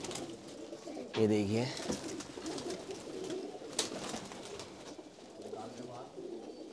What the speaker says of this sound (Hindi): डब वाला कबूतर देखें आप